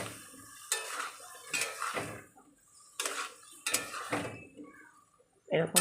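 Potatoes and tomatoes frying with spices in a pan while a spoon stirs and scrapes, producing several separate clattering strokes against the metal over a quiet sizzle.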